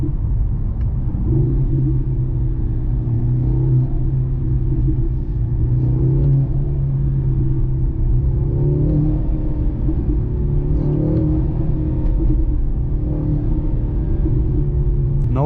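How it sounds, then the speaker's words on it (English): A 2023 Mercedes-AMG C43 four-cylinder engine downshifting during a night drive, heard from inside as a steady low drone with slight rises in pitch, continuous and fairly loud. "Look, I'm downshifting."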